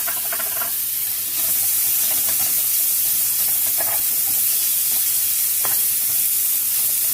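Red capsicum dropped onto browned onions in a hot pan, a loud hissing sizzle that holds steady after a brief rise, with occasional scraping stirs up close.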